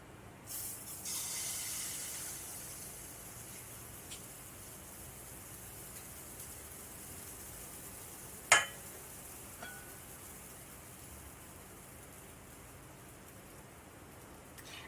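Pancake batter poured into a hot pan sets off a soft steady sizzle and hiss, quiet and continuous, broken by a single sharp clink partway through.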